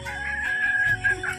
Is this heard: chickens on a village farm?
yes